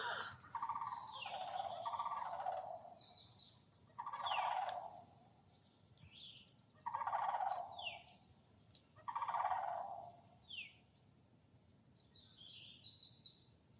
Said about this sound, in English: There's a mated pair of cranes across the river.